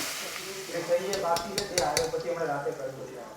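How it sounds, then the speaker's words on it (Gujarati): Hot oil tempering with mustard seeds, cumin and asafoetida is poured over green chutney, giving a quiet crackling sizzle with a few sharp pops and light utensil clinks. "તો મસ્ત મજાનો વઘાર આની ઉપર ચટણી ઉપર રેડી દઈએ"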